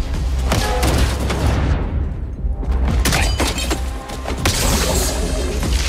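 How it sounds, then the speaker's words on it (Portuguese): A video game explosion erupts amid a dense barrage of booms, shattering crashes and rapid gunfire-like bursts, loud and continuous across several seconds. "Explosão."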